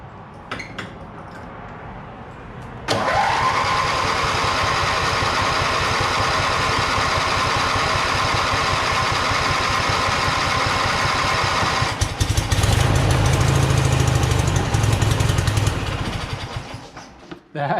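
A Simplicity mower engine fitted with a cheap Chinese replacement carburetor, heard loud and close as it cranks briefly, then catches and runs at a steady roar, surges rougher and lower, and fades toward the end, with no talking.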